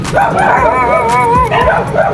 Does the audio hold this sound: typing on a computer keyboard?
no